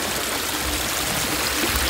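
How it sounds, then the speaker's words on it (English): Backyard water feature and splash pad among rocks running steadily, a continuous close splashing trickle of flowing water with no voices over it. "There is the water feature running."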